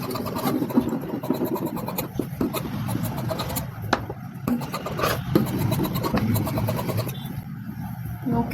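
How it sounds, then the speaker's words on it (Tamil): Scissors cutting princess-cut blouse fabric on a table, giving an ongoing scratchy rasping with repeated snips and sliding strokes over about eight seconds, close and moderately loud, no talking. "இப்போ கட் பண்ணிடலாம்."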